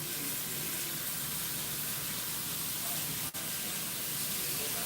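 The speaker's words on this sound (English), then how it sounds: "You want that sizzle. I don't know if you can hear that sizzle" Bacon in a hot pan gives a constant, even hiss of sizzling, fairly faint and steady across the whole stretch, with one brief dropout near the end.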